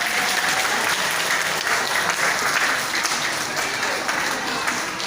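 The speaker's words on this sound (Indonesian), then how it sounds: "tepuk tangan sekali lagi." A crowd at a talk about children with Down syndrome keeps up steady, loud applause for the whole stretch, dense and even, with faint voices mixed in.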